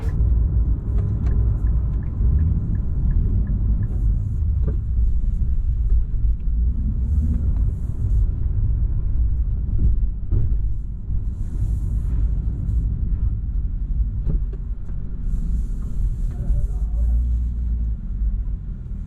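A new Nissan Z rolls along on a short first drive, its low engine and road rumble droning steadily inside the cabin while people talk over it now and then.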